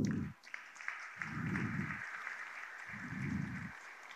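Faint, distant audience applause at an event presenting the new Porta Elisa stadium, a soft steady patter with low rumbling swells underneath and no voices.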